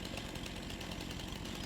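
A chainsaw cuts down a tree in a video game, giving a steady, dense buzzing roar with no pauses, loud and close throughout.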